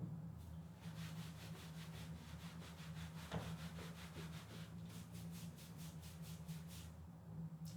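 Something rubs against the body of a RODE VideoMic Pro microphone mounted on a Canon 600D camera, giving repeated close, scratchy strokes in quick rhythmic bursts over a low hum.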